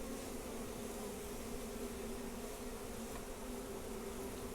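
Honeybees drone in a steady, dense buzz inside an opened hive during a hive check, the agitated colony humming continuously and close throughout with no voices.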